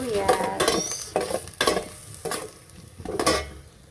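Onions frying in a pan, stirred in several bursts with loud sizzling scrapes, close and clear with no talking, a home cook sautéing vegetables for bitter melon.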